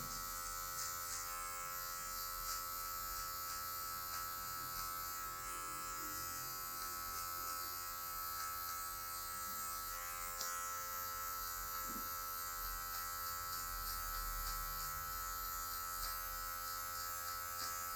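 Electric hair clipper fitted with a number 1 guard cutting dark hair in a fade, giving a steady, close, continuous buzz with slight shifts in tone as it moves over the head.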